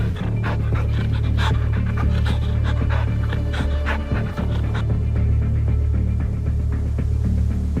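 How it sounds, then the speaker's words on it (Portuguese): African wild dogs pant rapidly and steadily at close range over a low, continuous hum, with the rhythm briefly breaking midway. No one speaks. "Cães selvagens africanos."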